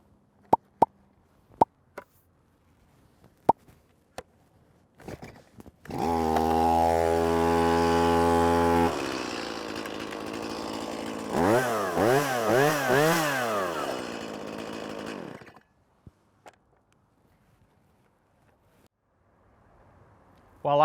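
Several sharp pull-cord yanks, then a chainsaw fires and runs at a steady high whine before revving up and down in wavering surges, then cuts off into near silence.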